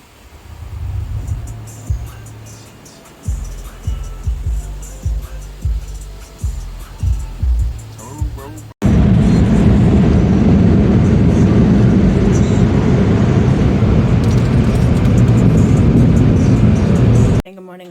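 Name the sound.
car going through an automatic car wash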